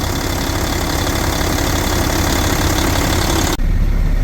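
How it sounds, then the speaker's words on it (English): A Volvo VNL780 truck idles with its A/C compressor running, a steady close mechanical drone and whir that holds evenly, then changes abruptly near the end to a lower, deeper rumble. "And the compressor start working right away."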